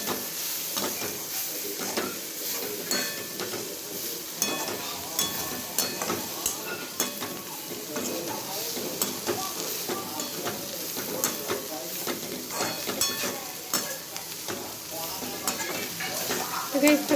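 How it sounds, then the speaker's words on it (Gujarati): Vegetables being stirred and fried in a pan, with a constant sizzle under repeated scraping and clinking of a spoon against the metal, close and steady throughout. "પહેલાં આપણે આને મિક્સ કરી દઈએ."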